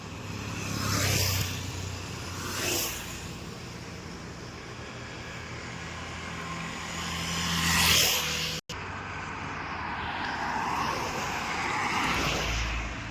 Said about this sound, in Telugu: చూడండి సార్ వెహికల్స్ ఎలా వెళ్తున్నాయి. చాలా బిజీ రోడ్ సార్.